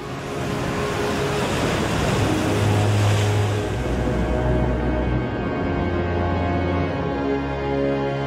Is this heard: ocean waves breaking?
yes